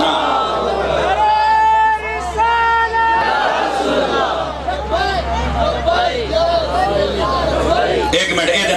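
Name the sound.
crowd chanting slogans (naare) at a religious gathering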